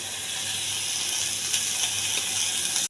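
Tomato and ginger garlic paste sizzle in a pan, a steady, close hiss of frying with a soft crackle throughout and no voices.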